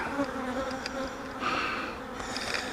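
Honeybees buzz inside a hive during an inspection after a swarm has left, only a few remaining; a steady, close, continuous drone with no talk.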